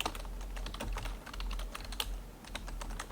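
Steady, fast clicking of keys being typed on a computer keyboard, close and fairly quiet, with an even, continuous rhythm and no voice over it.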